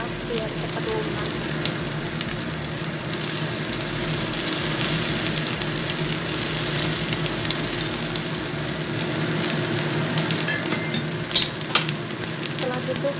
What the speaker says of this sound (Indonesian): Setelah itu kita aduk-aduk bentar ya